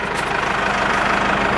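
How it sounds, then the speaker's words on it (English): A tractor engine runs steadily nearby, a continuous low, rumbling drone with an even pulsing throb and no talk. "We have a tractor,"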